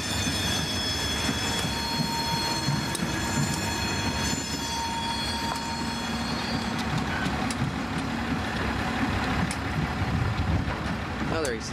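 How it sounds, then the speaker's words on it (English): A freight train rumbles steadily past at moderate distance, wheels clattering and occasionally squealing on the rails, a continuous low roar with metallic screeches above. "another train."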